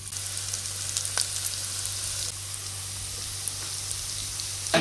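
Bombay potatoes coated in masala fry on a high flame with a steady, close sizzle and faint crackles throughout, with no voices.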